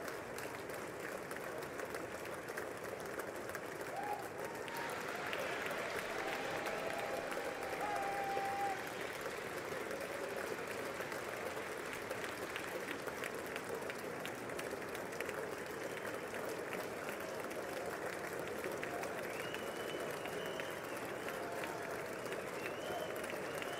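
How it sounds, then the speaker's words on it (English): Sustained applause in the chamber at the 2018 State of the Union address, a broad even wash of clapping from a large crowd, heard at a distance and lasting the whole stretch. "Keep the applause going."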